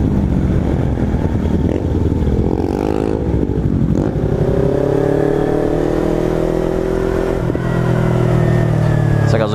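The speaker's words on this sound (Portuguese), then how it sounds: "Essa gasolina que eu botei de má qualidade tá fazendo a moto pipocar." A Kawasaki Ninja 300 motorcycle engine runs and revs steadily up close, with pitch rising and falling; occasional sharp pops from backfiring on poor-quality gasoline, though they are hard to pick out.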